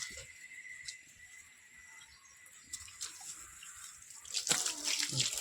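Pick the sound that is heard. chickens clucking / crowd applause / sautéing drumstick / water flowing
water flowing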